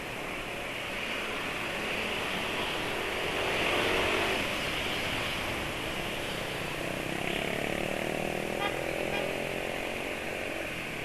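Yamaha NMAX scooter engine accelerating, a continuous droning whine that swells and eases in pitch as speed changes, recorded close and steady without speech.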